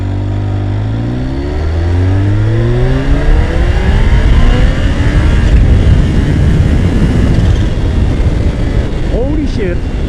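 Kawasaki H2 SX SE supercharged motorcycle accelerating hard on a country road, the loud engine note climbing steadily through rising pitch sweeps and then roaring with rushing wind as speed builds.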